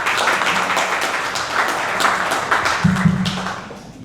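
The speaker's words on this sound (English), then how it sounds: "Let's give a round of applause" Audience applause welcoming Dr. Dave to the stage at a corporate cybersecurity event in Indonesia, continuous crowd clapping at fairly close range with a brief thump and a short voice near the end.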